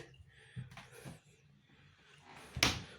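A household shelf cupboard door is closed, a soft thump and brief rustle followed by a firmer knock near the end, fairly quiet and close.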